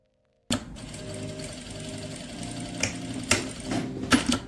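A sewing machine stitches a fold on an Afghani salwar, its rapid even mechanical whir starting abruptly after a moment of silence and running steadily, with a few louder clacks near the end.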